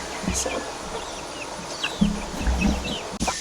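Soft, scattered clucks from a few chickens over a low background hum, with brief bird chirps mixed in.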